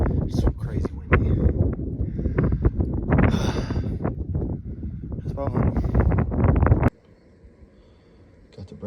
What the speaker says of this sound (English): It's so crazy windy.